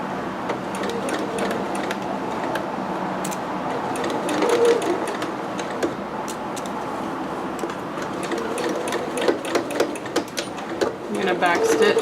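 A sewing machine back stitches a dress seam with a steady, continuous mechanical whir. Occasional clicks come through and people talk over the sound.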